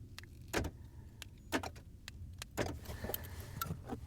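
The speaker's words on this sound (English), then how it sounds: "Oh, lights are happening, and the car has started." A Ford car starts by remote start from its factory key fob, with a few sharp mechanical clicks and thumps spaced about a second apart, a low engine rumble running underneath, close by and fairly quiet.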